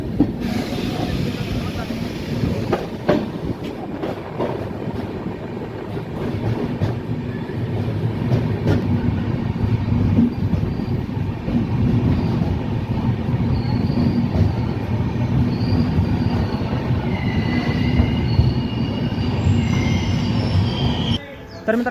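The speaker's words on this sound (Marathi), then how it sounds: "WDG-4D diesel engine." The Marathwada Sampark Kranti Express, hauled by a WDG-4D diesel locomotive, rolls steadily with loud continuous rumble, wheel squeal and rail clatter heard from on board, with a faint voice now and then.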